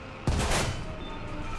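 A tank cannon shot in War Thunder, from a German Panzerbefehlswagen IV Ausf. J medium tank: one sharp, loud blast with a rumbling tail that fades out. No talk.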